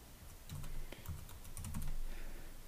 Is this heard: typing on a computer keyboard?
yes